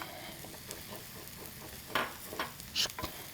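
A beaten egg hitting a hot pan beside other ingredients, giving a soft, close sizzle with a few brief louder crackles and scrapes near the end.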